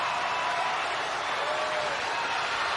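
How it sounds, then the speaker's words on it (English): A wrestling arena crowd roars and yells without pause, a dense, steady wash of voices and cheers that fills the whole moment. "You knew something happened because the crowd is yelling."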